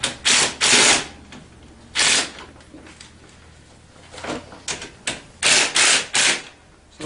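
A ratchet tightens the handlebar clamp bolts on a Tao Tao ATA 150B ATV, close quick clicking bursts in several short runs with pauses between them, no talking.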